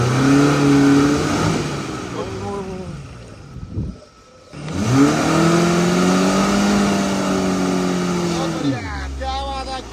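A Maruti Gypsy engine revs off-road, rising and falling in several long surges with a brief dip midway, close and loud, while people talk over it.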